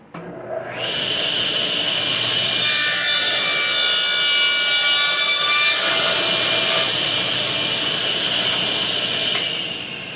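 Table saw with a miter gauge cutting through wood for a cup holder build, a loud steady whine of the blade rising into a harsh ripping cut midway, then settling back to a running hum.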